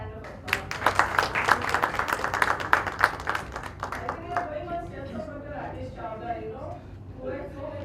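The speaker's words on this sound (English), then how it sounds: "A big hand of applause." An audience at a medical conference on neutropenic sepsis claps loudly for about four seconds, then the clapping thins out and a speaker talks over the last scattered claps.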